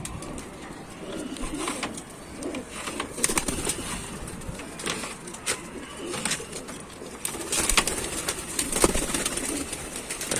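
Pigeons coo in a loft of high-flying racing birds in Tanta, soft repeated calls scattered over a steady bed of rustling and faint wingbeats.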